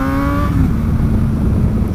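A car accelerating gently through a set of corners, its engine a steady, loud drone that rises slightly in pitch and then holds for two seconds, close up with no voices.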